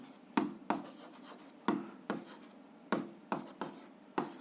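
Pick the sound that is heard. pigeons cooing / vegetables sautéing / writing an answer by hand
writing an answer by hand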